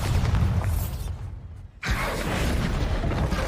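A Bombarda explosion spell goes off in Hogwarts Legacy, a loud booming blast that drops into a brief hush before a rumbling burst of debris and noise sweeps back in.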